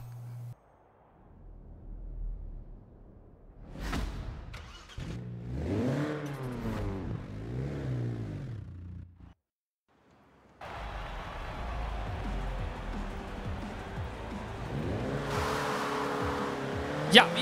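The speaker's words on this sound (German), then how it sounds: "Deswegen trotzdem Motor an und mal rausfahren." Second-generation Renault Megane special edition in Forza Horizon 4 cranking to life, then revving in rising and falling bursts, a brief silence, and a steady driving engine drone with tire noise building toward the end.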